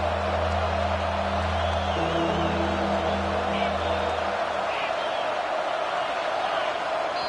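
A college football video game stadium crowd roars in a steady, dense wall of cheering noise, with a tonal hum cutting out partway through and no clear individual voices.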